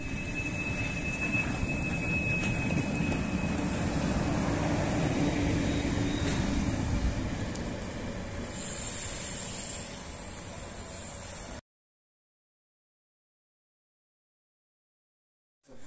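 A passing train gives a steady rumbling roar with a faint squeal of wheels for about eleven seconds. It then cuts off abruptly into silence.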